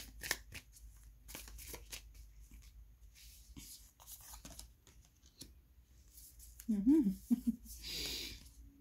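Tarot cards being handled and shuffled, soft close card flicks and riffles with scattered taps and slides, with a voice speaking briefly near the end.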